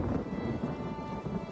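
Rain falling in The Elder Scrolls Online, a dense, steady patter of drops with a low rumble underneath, even and continuous with no voices.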